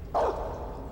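A single short dog bark from Metal Gear Solid 3: Snake Eater, fairly close and clear, followed by a fading tail over quiet game ambience.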